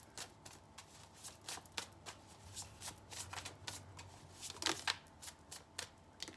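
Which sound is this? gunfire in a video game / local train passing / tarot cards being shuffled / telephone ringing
tarot cards being shuffled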